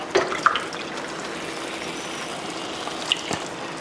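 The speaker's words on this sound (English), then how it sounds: "So just keep on adding some of the broth" Broth pours into a pot of thick oxtail kare-kare stew, a soft continuous liquid trickle with a few faint splashes and drips near the start and end, quiet and close with no voices.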